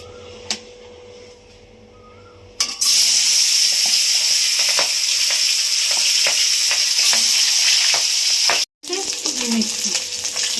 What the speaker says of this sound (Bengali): তেল গরম হয়ে গেছে মাছ দিচ্ছি